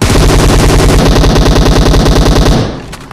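Sustained automatic gunfire spray in the battle royale game BGMI, loud and close, a rapid steady burst of shots for about two and a half seconds before cutting off.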